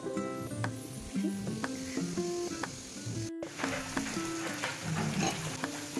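Pea-stuffed kachoris deep-frying in hot oil in a kadai make a steady, close, continuous sizzle with occasional stirring, and music plays over it throughout.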